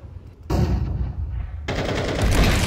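Gunshots in Counter-Strike 2 on the Dust 2 map: two loud, close bursts of fire, the second starting about a second after the first and continuing steadily to the end.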